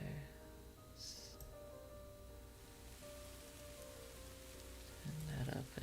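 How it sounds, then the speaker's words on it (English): Steady rain falls on a surface in a quiet, even wash of patter that stays soft and constant throughout, with no voices over it. "I'm just going to swap over to the rain sounds that we had yesterday."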